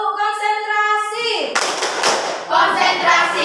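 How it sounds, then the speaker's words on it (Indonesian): A classroom doing a concentration clap game during a lesson: a voice speaks first, then a burst of rhythmic group hand claps, a short pause, and more clapping, close and loud. "Tepuk konsentrasi."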